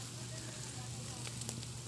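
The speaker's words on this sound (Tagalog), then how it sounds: "nag-iihaw ng baboy" Pork grills over an open fire, giving off a steady, close sizzle with a faint crackle and a low constant rumble underneath.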